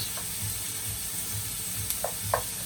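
Soft sautéing in a pan without browning gives a low, gentle sizzle with a few faint clicks of a utensil near the end, quiet and steady with no speech.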